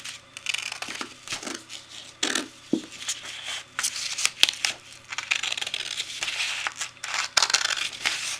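Paper being ripped along a line by hand, in a series of short, close crinkling and tearing bursts with small pauses between them.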